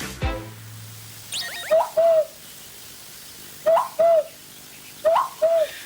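A voice mimics a cuckoo's two-note call, repeated three times with short gaps, after a brief thud at the start.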